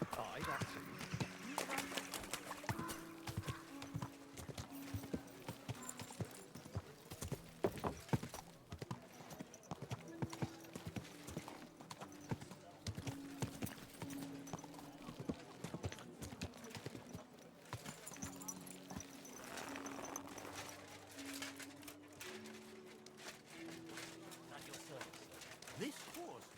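Horse hooves clip-clopping at a steady walking rhythm in the medieval video game Kingdom Come: Deliverance II, quiet and continuous, with game music and character voices talking over them.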